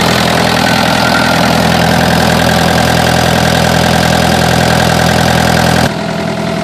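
A John Deere 50C excavator's diesel engine idles loud and close with a steady, even rumble, the level dropping slightly near the end.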